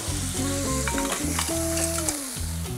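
Cockles rolled in hot oil in a pan as they cook and open, a continuous close sizzle with faint crackles, mixed with tonal background music.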